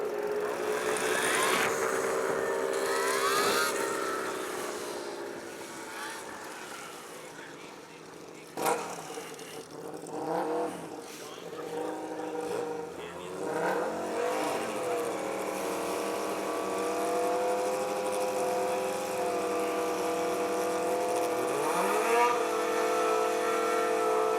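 An Alta Redshift SM electric motorcycle makes a short launch at a drag strip with a rising electric motor whine and tire noise. A loud crowd and PA ambience sit underneath, and a voice is heard faintly.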